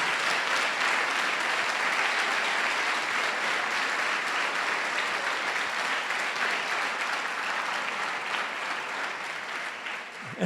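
A church congregation in Porto Alegre applauds at a 40th anniversary celebration, sustained dense clapping from a large crowd that holds steady for about ten seconds, with no speech over it.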